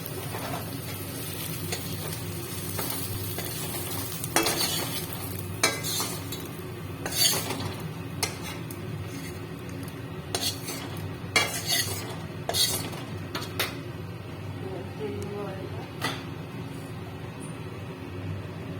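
Fried onions lifted out of a pan with a metal utensil, scattered scraping clinks and taps against the cookware over a faint steady sizzle, with no talking.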